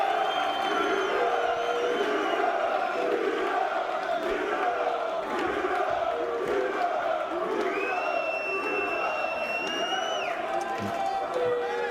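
Crowd at a 2012 Mosconi Cup pool match, with Chris Melling and Brandon Shuff playing, cheers and roars steadily throughout, a continuous dense noise of many voices with scattered shouts and whistles, while a commentator talks over it.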